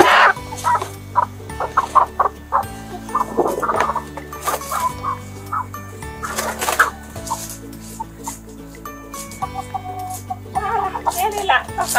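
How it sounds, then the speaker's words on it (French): Three laying hens cluck repeatedly and loudly nearby while being released from a carton into their new home coop, short bursts of clucks scattered across the whole stretch. "là nous avons trois poules"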